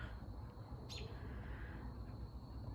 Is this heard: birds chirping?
yes